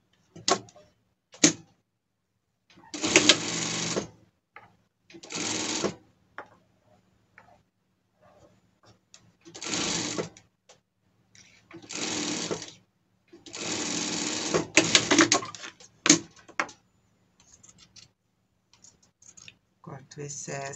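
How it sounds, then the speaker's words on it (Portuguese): Sewing machine stitching a seam on a fabric cap, several short whirring bursts separated by pauses, close and moderately loud, with quiet clicks in between. "Passar uma costura aqui"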